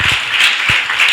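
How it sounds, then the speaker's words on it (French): Loud congregational clapping in a church service, a short dense burst with some rhythmic swells and no voices over it. "Applaudis pour le roi des rois."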